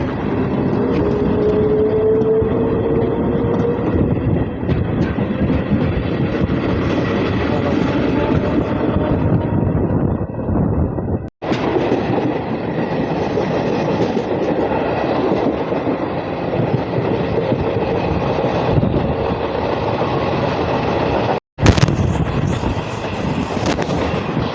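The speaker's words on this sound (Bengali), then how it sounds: "তাহলে মল্লারপুর থেকে ছেড়ে দিল আমাদের ট্রেন।" A Rampurhat–Bardhaman MEMU local train pulls out of Mallarpur, its loud continuous rumble and wheel noise steady throughout, with two brief dropouts, and no one speaking.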